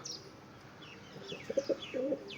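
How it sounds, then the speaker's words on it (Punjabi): Domestic pigeons coo softly a few times in a loft, with faint chirps and a brief flutter of wings in the background, the coos clustering toward the end. "ਕਬੂਤਰੀ ਹੈ ਆ ਕਬੂਤਰ ਆ ਚੈੱਕ ਕਰ ਲੋ"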